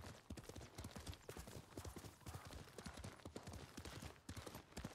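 Horse hooves clop in a quick, steady gallop rhythm in the samurai video game Ghost of Tsushima, faint and continuous with no speech over them.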